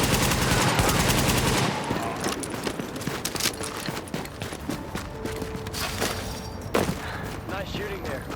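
Automatic gunfire in the shooter The Division: a loud sustained burst up front, then scattered shots, impacts and footsteps at lower level, with some voice activity underneath.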